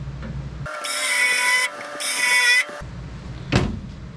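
A power drill whines in two short, high-pitched bursts up close while drilling out fasteners in a K5 Blazer's rusty bed floor, followed by a soft knock and quiet background.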